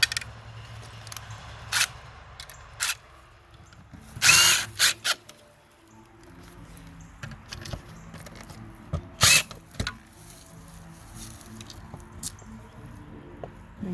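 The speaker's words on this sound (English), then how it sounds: "Let me get my screws going on." A power drill drives screws into an electrical box for a waterproof outdoor receptacle, with short loud whirring bursts separated by quieter handling clicks and rustles, and no talk.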